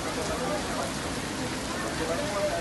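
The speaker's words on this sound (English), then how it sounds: "We just got here and look at the rain. It just started all over again." Steady rain pours down at Disneyland Paris, a dense, even hiss of drops on surfaces filling the whole moment without any break.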